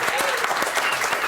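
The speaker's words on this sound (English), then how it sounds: "That's worth a round of applause, isn't it?" Studio audience applause during a televised FA Cup fifth round draw, a steady dense clatter of many hands clapping together, moderately loud and sustained throughout.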